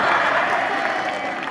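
A room of schoolchildren claps in a brief, even wash of applause, loud and steady throughout, with faint crowd voices beneath.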